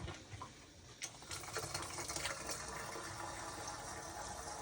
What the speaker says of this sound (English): let's pour some water through and see